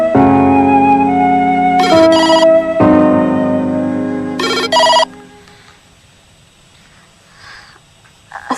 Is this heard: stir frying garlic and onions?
no